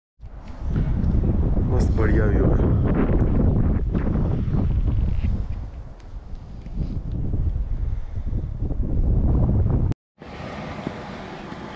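Strong wind roaring past the microphone outdoors at Unzen Jigoku in Nagasaki at about minus two degrees, a loud continuous buffeting that eases midway and cuts out briefly near the end, with someone speaking over it.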